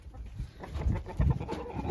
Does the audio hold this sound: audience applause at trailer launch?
no